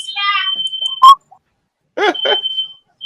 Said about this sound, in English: Who set off the fire alarm?